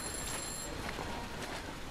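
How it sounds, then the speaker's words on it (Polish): A telephone rings in the horror game I'm Counting to 6, a faint, thin electronic trill repeating over a dense background hiss for two seconds. "Będziemy odebrać telefon?"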